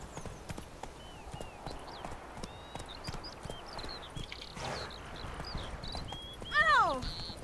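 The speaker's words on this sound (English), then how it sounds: "Guess I better get this horse." Rhythmic clip-clop of horse hooves trotting steadily, with high chirping tones above and a brief horse whinny near the end.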